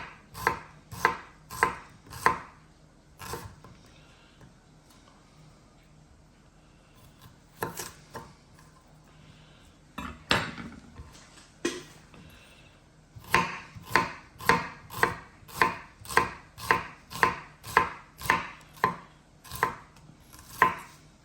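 Knife chopping a small onion into half rings on a board, sharp evenly paced chops in bursts with a pause in the middle, close and clear with no talking.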